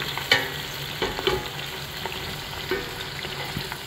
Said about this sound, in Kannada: ಇದಾದ್ಮೇಲೆ ಈರುಳ್ಳಿ ಹಾಕೊಂಡು ಫ್ರೈ ಮಾಡ್ಕೊಳ್ಳಿ